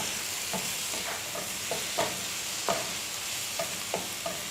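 Tomatoes sautéing in a pan for a coconut-milk prawn roast make a steady close sizzle, with soft regular scrapes and clicks of stirring throughout, no voices.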